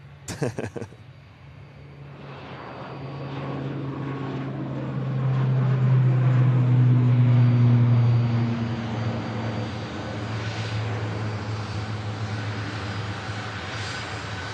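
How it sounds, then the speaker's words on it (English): An Aer Lingus ATR turboprop taxis out at Manchester Airport, its steady droning engine carrying a tonal whine that swells in the middle and then eases back, heard fairly close. "Aer Lingus ATR on the move"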